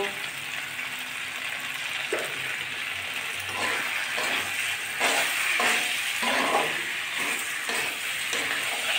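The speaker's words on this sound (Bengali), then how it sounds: "তেলে ফুসফুস করছে" Oil sizzles steadily in a pan of frying potato curry for a vegetarian dish, a continuous loud crackle with periodic scraping and stirring knocks.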